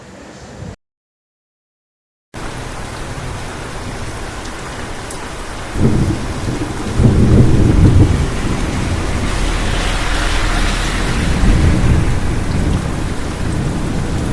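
A strong storm with steady heavy rain pouring down and deep rolling thunder that swells partway through, loud and continuous with no voices.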